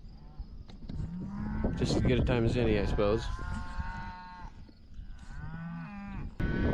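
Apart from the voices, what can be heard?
cattle mooing in pasture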